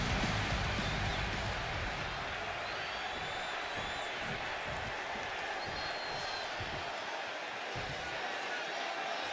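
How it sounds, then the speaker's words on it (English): Arena crowd in the WWE 2K25 video game cheering and applauding a wrestler's entrance, a steady, dense roar of many voices that stays loud and constant throughout. "It's great to hear the crowd give this superstar the reception he deserves"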